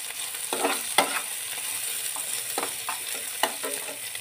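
Onions with green chillies and garlic frying in a pan, giving a steady sizzle with several stirring scrapes and clicks of a utensil spaced through the clip, close and fairly loud, with no talking.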